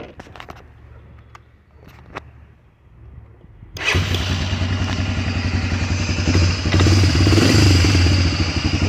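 An older quad ATV with a new Maier plastics kit starts up after a few quiet clicks, its engine catching abruptly and settling into a loud, steady idle with a slight mechanical clatter.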